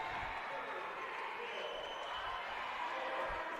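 Home crowd noise at a volleyball national tournament match, a steady broad murmur of cheering and voices filling the gym throughout, with no clear peaks.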